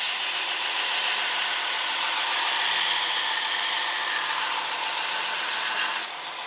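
A Shop Master 72-inch belt grinder runs steadily as a knife blade is pressed to the moving abrasive belt, giving a loud, continuous rasping hiss that holds for several seconds and then drops off sharply near the end.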